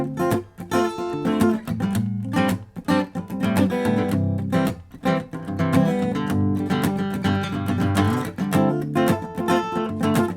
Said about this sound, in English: Now it's got kind of a really cool funk guitar in it that sets it off.